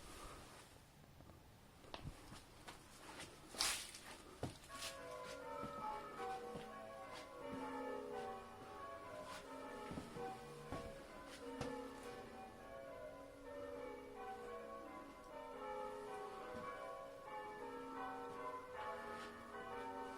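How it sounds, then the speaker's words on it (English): Several church bells peal continuously in bell-ringing practice, overlapping strikes ringing out with a rich, resonant tone that layers into a dense, ongoing chime. "The church bells are just practice, by the way."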